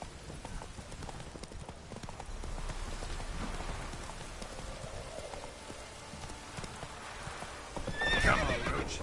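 Roach, a horse in The Witcher 3 game, gallops in steady rhythmic hoofbeats through falling rain, then lets out a loud whinny near the end.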